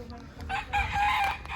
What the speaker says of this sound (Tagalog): Napagwapong mga manok yan mga katropa no